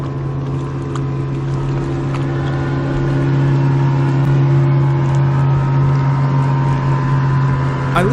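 A steady droning engine hum of motorboats on Cedar Creek Lake during a tournament fills the scene, swelling slightly as they pass close by, with water noise underneath.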